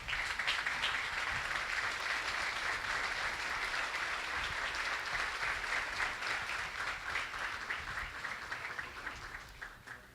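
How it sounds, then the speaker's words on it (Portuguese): A standing church congregation claps in praise at a Portuguese-language service, a dense, loud wash of applause that holds steady for about ten seconds before easing slightly at the end. "vamos aplaudir a Jesus com alegria"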